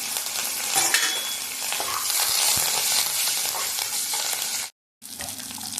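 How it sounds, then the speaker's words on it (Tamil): Chana dal, green chilies and curry leaves crackle in hot oil with mustard seeds and cumin, a dense loud sizzle with stirring scrapes, briefly cutting to silence before the frying resumes. "கடலைப்பருப்பு பச்சை மிளகா கருவேப்பிலை எல்லாத்தையும் போட்டு நல்லா வறுத்துக்கலாம்"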